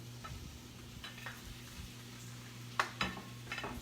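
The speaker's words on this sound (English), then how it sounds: "just a quick stir" A quick stir of egg and vegetables in a frying pan, with a soft, steady sizzle beneath a few faint scrapes and light utensil taps against the pan, heard up close and without any voices.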